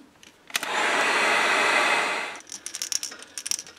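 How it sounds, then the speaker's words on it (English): A heat gun blows steadily for almost two seconds while drying fresh paint on a fishing lure, a loud broadband whoosh that starts and stops abruptly, with light clicks and handling noises after it cuts off. "We're going to take the heat gun, put a heat set on that to dry it"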